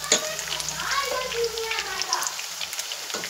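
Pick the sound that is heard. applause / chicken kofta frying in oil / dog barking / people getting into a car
chicken kofta frying in oil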